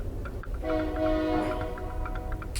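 A train horn blares in a sustained chord for about a second, loud and near over rumbling rail noise, then fades as the train rolls on.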